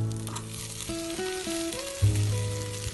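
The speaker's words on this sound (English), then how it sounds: "And then we have to saute it until it becomes light brown." Food sautéing in a pan for mutton dry fry gives a soft, steady sizzle, quiet and close, with a few stirring shifts partway through.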